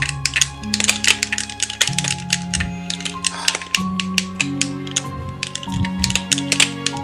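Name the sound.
controller button clicking while playing Super Smash Bros. Melee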